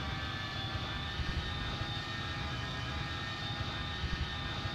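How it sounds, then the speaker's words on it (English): A Canberra jet bomber in a Roblox game drones past as a dense, continuous engine roar with a steady whine on top, loud and unbroken, no voices. "They are just Canberras, the Canberra jet bombers, except for a bit more guns on them because they're American"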